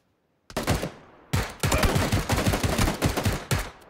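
Rapid bursts of gunfire in the video game PUBG (PlayerUnknown's Battlegrounds) crack out loud and close. Several volleys of sharp repeated shots are separated by brief pauses after a silent start.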